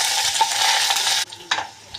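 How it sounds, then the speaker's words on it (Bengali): Pumpkin greens frying in hot oil with mustard seeds, green and dried chillies and onion, a close, steady sizzle broken by brief stirring scrapes toward the end, with no voices. "এই যে আমি শাক ভাজবো, তার জন্য তেল দিয়ে দিছি"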